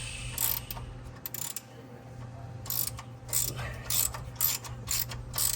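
Quick ratcheting clicks in short bursts as a bolt is worked loose on a 1972 Ford Mustang Convertible, set against a steady low mechanical hum, fairly close and with no talking.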